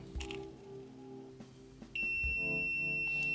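Quiet clicks and a faint hum, then a GVDA GD166B clamp meter starts a continuous high-pitched electronic beep, measuring a 5.5-ohm resistance, holding steadily to the end.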